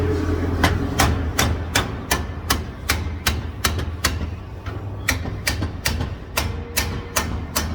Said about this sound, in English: I'll focus my hammer on this side.